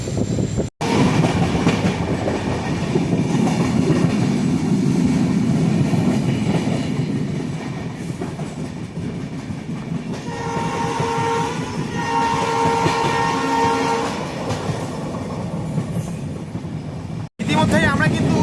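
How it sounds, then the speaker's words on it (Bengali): A 15777 NJP to Alipurduar Tourist Express rumbles along steadily near Rajabhatkhawa in the Dooars forest, with continuous wheel and carriage noise, a sustained horn blast partway through, and brief voices faintly under the din. "ইতিমধ্যেই কিন্তু রাজা ভাতখাওয়া রেলওয়ে স্টেশন থেকে আমাদের ট্রেন ছেড়ে দিল"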